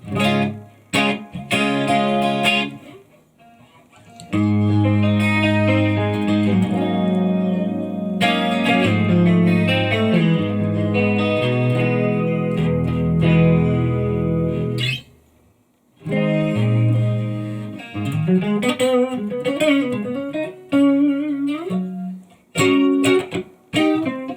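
Electric guitar chords and picked melodic lines through a Marshall DSL100H amp head, reverb set around 3, ring out with a washy reverb tail, pausing briefly between phrases, loud and close with no talk.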